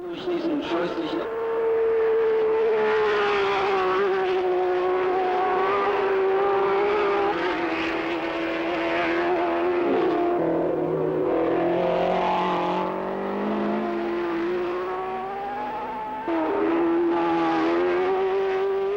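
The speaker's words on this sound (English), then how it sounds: "The two Jacks, Brabham and Stewart, are still nose to tail" Formula One cars race at the 1967 German Grand Prix, engines howling loudly and continuously with shifting pitch as they pass, under a commentator's talk.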